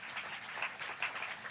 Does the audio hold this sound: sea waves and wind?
no